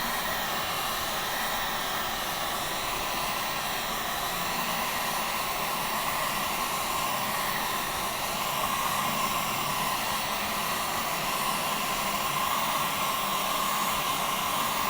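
A heat gun blows steadily as it warms an old drum head, a continuous even airy whoosh held close and unbroken for the whole stretch with no talking.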